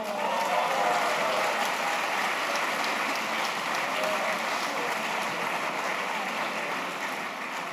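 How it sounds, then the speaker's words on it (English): Conference audience applauding at a closing session, a dense, steady wash of many hands clapping that stays loud and continuous throughout, with a faint voice or two mixed in. "So a big round of applause for all of those ladies who make this world a better place."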